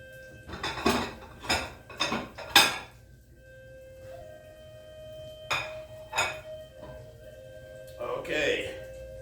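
A plate is pulled out and handled in a home kitchen while pitta bread fries nearby: a quick run of sharp ceramic clinks and knocks, then two more isolated clatters and a softer rattle, close and fairly loud over a steady background hum.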